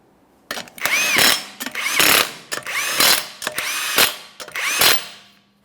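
A power tool runs 21mm lug nuts onto a 2014-2019 Toyota Corolla wheel, five loud, close bursts of whirring and rattling separated by short gaps.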